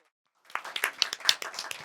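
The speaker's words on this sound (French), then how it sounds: "On applaudit" A French television studio audience claps in a short burst of applause that starts abruptly after a brief silence and runs as quick, uneven hand claps up close.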